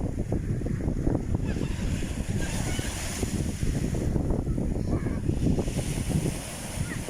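Sea waves wash at Baseco Beach in Manila, a rough, surging rush close by, mixed with gusty wind buffeting the microphone and faint background voices.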